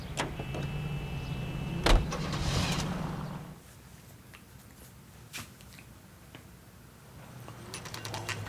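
A car auto-driving to its destination in the video game LA Noire: a steady engine hum and road rumble with occasional clunks and clicks, fading to quieter mechanical ambience and back, no talk.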